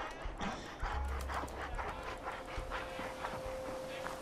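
A dog panting in the video game Fallout 4, with quick rhythmic breaths running steadily through the whole stretch over a busy game soundscape with faint background noise.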